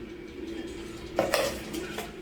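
Two big spoonfuls of sugar go into apple and banana juice, a spoon clinking against a bowl in a few short taps over quiet kitchen background.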